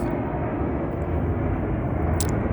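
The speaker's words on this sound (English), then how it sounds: "you're listening to the sound of that plane" Steady, loud airplane engine drone fills the whole stretch, a continuous low broadband rumble with no talk over it; the aircraft is not taking off.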